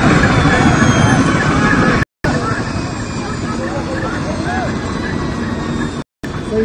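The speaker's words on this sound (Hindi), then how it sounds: "हवा में मंडरा ये हेलीकॉप्टर बहुत बड़े हादसे का शिकार होने से बच" A helicopter hovering in the air near Kedarnath, with a loud, steady rotor and engine roar filling the scene, while voices and crowd noise run beneath it and two brief gaps cut the sound.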